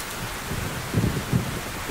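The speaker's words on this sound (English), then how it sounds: "The rains begin." Monsoon rain falls steadily on a forest with a soft broadband hiss, with two brief low rumbling bursts near the middle.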